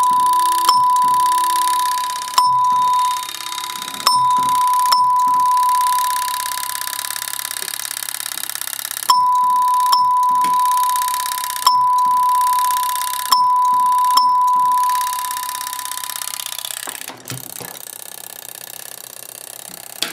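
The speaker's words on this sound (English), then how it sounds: "I'm going to turn on the chime" A Simplex 4263-1 coded pull station drives a fire alarm chime in a repeating coded pattern of ringing strikes grouped into bursts with short pauses, loud and steady for about seventeen seconds before stopping.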